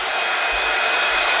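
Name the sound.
hair dryer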